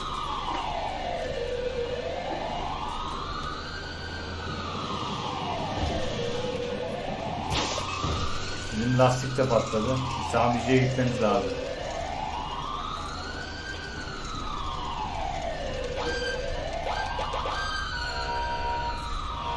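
An ambulance siren in the GTA 5 video game wails in long rising and falling sweeps that repeat steadily and loudly, while voices talk over it and a brief burst of clattering noise cuts in midway.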